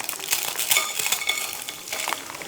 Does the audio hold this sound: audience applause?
no